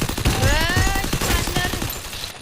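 Rapid bursts of automatic gunfire from a Free Fire battle royale match, dense and loud, with shots rattling in quick succession across the whole stretch and a faint electronic game tone near the end.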